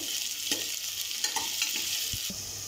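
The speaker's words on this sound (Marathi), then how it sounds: "आणि आता आपण फोडणीला बारीक चिरलेला कांदा टाकूया." Finely chopped onion frying in tempering oil for a spicy mutton curry (rassa), with a steady close hiss of sizzling and several soft stirring scrapes spaced through it, and no voices.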